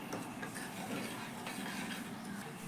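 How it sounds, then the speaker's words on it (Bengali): A spoon stirs dry ingredients in a bowl while a healthy oil-free snack is being made, soft continuous scraping and light clinking, faint and close, with no talk. "সব শুকনো উপকরণ খুব ভালো করে আমি চামচের সাহায্যে মিশিয়ে নিচ্ছি"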